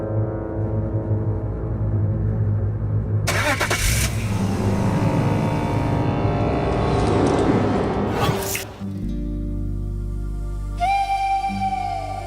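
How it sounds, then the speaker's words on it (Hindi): A car engine turns over and runs, rising in a rev before the vehicle pulls away, loud and close for several seconds, with a whistling tone near the end. "गाड़ी चलाओ।"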